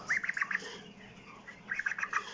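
A sick broiler chicken in an isolation cage gives two short bursts of high, squeaky chirps, faint and close, with quiet barn noise underneath.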